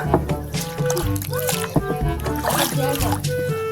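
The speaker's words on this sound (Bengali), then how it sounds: "যে দাদা এখন নৌকা চালাচ্ছে।" A rowboat crossing a village river, its water sloshing and splashing steadily beneath continuous talking voices.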